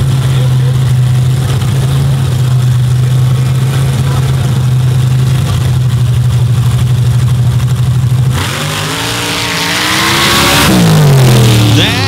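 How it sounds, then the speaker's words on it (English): A race vehicle's engine screams loud and close on a hill-climb run at Gore Springs, holding a steady high drone and then revving up and down through sharp pitch swings near the end. "here comes Jason Massey, who's got a heavy right foot but a very precise vehicle."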